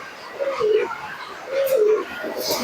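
Pigeons give two low, rolling coos, close and clear, with a voice talking faintly in the background.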